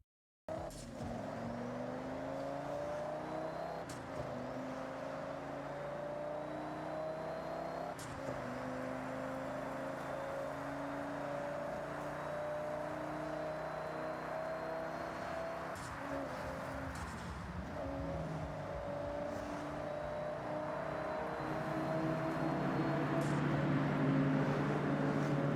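An Audi RS6 C6 with its V10 engine drives through a tunnel. Its steady, droning note echoes off the walls and rises with gear changes, growing louder near the end. No one speaks.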